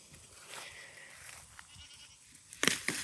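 Goats bleat near the end in two sharp, close calls, after quieter, muffled background sounds.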